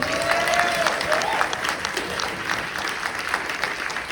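Steady applause from an audience, a soft continuous patter of many hands with faint tonal sounds in the background, fairly even in level.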